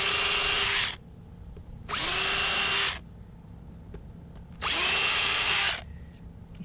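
Three loud power-drill bursts, each about a second long with gaps between, as a Phillips head bit countersinks a hole in a mast step spacer being rebuilt on a cheap catamaran.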